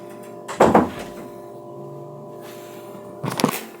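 A door opened and closed indoors: two short clattering bursts, a second and a half and more apart, fairly loud and close, with a quiet room hum between them.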